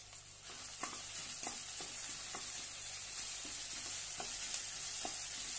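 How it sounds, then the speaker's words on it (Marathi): Chopped tomato and ginger-garlic paste sautéing in a pan for a rustic brinjal curry: a soft, even sizzle with light stirring clicks scattered throughout, fairly quiet and with no voices. "छानपैकी परतून घेऊया।"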